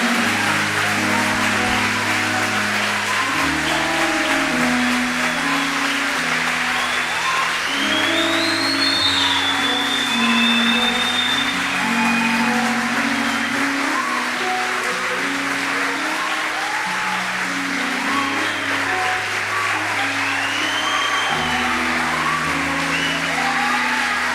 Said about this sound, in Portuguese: Aplauda na proporção na qual você recebe essa palavra, irmão